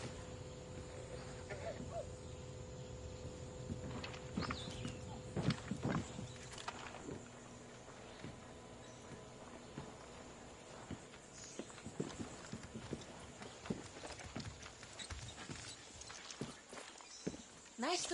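Horse hooves clip-clop in a video game, a run of distinct hollow knocks in an uneven walking rhythm, fairly faint against a quiet background, with a voice talking over parts of it.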